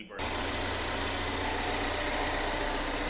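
A Ford Focus ST engine starts up and settles into a steady idle, a loud continuous hum with a low throbbing rumble close by, no talking over it.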